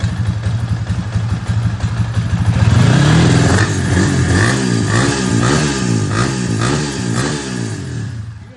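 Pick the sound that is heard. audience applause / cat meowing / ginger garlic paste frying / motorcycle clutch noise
motorcycle clutch noise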